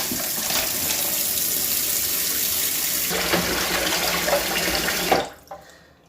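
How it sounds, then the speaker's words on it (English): Warm water runs steadily from a tap into a sink, a full gushing stream that shifts once and then shuts off, leaving quiet drips. "So now I'm going to fill that to the sink with the same warm water as I did before."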